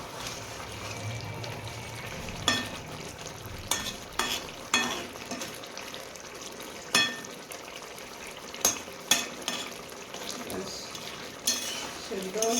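Potato and eggplant curry being stirred and mixed in a pan with a spoon, spaced scraping clinks over a soft, continuous sizzle with no talking.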